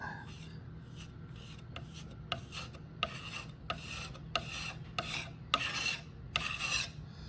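Rhythmic rasping strokes of sanding scratch back and forth at close range on a Ms. Pac-Man arcade cabinet, growing louder over a low background hum.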